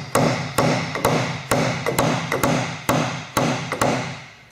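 Sharp hammer blows driving moisture meter pins into hardwood along the grain, about a dozen close, loud strikes in an uneven rhythm, some doubled, each with a short ringing decay.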